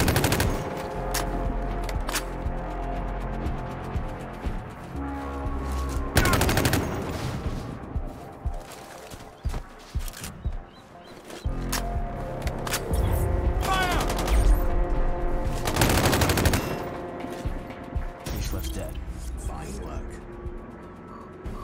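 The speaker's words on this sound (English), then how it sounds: "I heard a shot! Someone is shooting nearby!" Gunfire in the video game Sniper Ghost Warrior Contracts: rapid automatic bursts and single shots crack through the scene, alternating with quieter stretches, under game dialogue.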